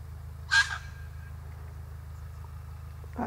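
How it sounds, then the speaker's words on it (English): A red wattlebird gives a short, harsh, raspy call, with another brief rough note near the end, over a steady low background hum. "That's a red wattle bird."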